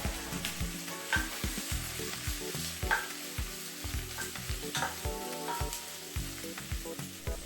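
Shrimp heads and shells frying in a little oil in a saucepan, a loud close sizzle with rhythmic scraping and stirring knocks repeating throughout, no voices.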